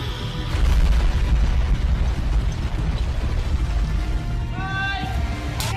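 A pyrotechnic spiral explosion staged for an Ultraman X film effect, with powder charges fired in sequence and a blower scattering debris, gives a loud sustained rumbling boom with scattered pops and clatter, tailing off near the end.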